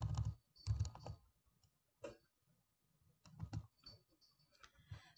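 Quiet typing on a computer keyboard while entering text in Silhouette design software: short clustered bursts of keystroke clicks separated by brief pauses, close and soft, with no talking.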